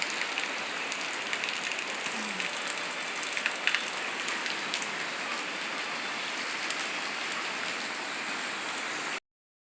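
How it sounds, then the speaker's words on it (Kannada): Steady rain falls outdoors near a home, a dense even hiss of drops on surfaces running throughout with no voices. "ಮಳೆ ಬರ್ತಾ ಇದೆ ಫ್ರೆಂಡ್ಸ್."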